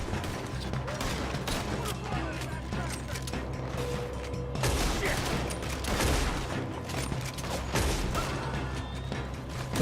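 Gunfire during a robbery shootout in the video game Red Dead Redemption 2, with repeated sharp shots in irregular bursts over metallic clicks and mechanical rattling, fairly loud and dense, with a voice talking at times.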